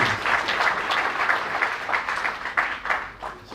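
Sustained applause from an audience at a literary festival, a busy, even patter of many hands that swells and dips slightly, loud and close, with no talk over it.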